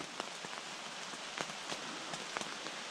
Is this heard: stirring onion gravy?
no